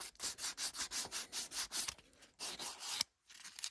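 The cut edges of a foam block are cleaned up for a tail light bar build with steady back-and-forth rubbing. About eight even, close strokes come in a quick rhythm, then a short pause, another burst and an abrupt stop.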